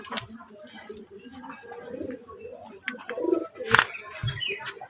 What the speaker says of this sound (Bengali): দেখো পায়রাগুলো এখন এই দিকটা